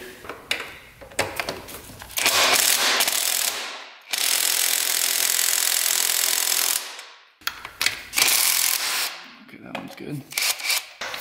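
Ratchet wrench loosening the belt tensioner bolts on a 1975 Honda 1000cc motorcycle, with rapid clicking bursts, two long loud sustained ratcheting runs, and scattered tool clatter close by.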